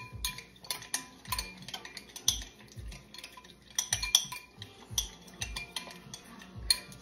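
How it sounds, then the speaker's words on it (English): A spoon stirs butter and salt in a dinosaur-shaped butter mold, giving repeated soft scraping clinks and taps in an irregular rhythm, close and quiet with no talking. "I'm gonna give it a mix."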